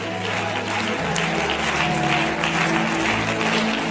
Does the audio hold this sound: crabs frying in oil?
no